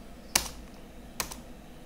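Two distinct clicks on a computer keyboard, spaced under a second apart, as an Alt+Enter shortcut is pressed in Android Studio, close and crisp over quiet room tone.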